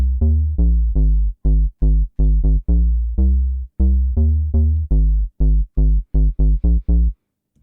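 Deep house bass line built in FL Studio, a run of punchy low synth notes with harmonic overtones, some overlapping and gliding with portamento sway, in a steady syncopated pattern that plays alone for about seven seconds.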